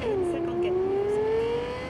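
A car drives through the streets of Cyberpunk 2077 with a steady, close engine whine that slowly rises, like light revving under motion, heard over a continuous game background.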